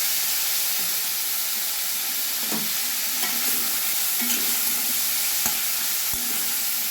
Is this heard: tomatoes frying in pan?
yes